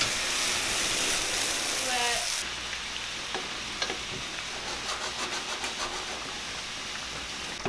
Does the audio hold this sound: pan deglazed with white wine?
yes